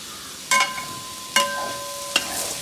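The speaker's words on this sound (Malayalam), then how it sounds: "ഉപ്പുമാവ് കരിഞ്ഞു പോകാതെ ഇടയ്ക്കൊന്ന് ഇളക്കി നോക്കണ്ടേ?" A spoon scraping through broken-wheat upma in a pan: three separate scrapes with a light sizzle between them, close and alone.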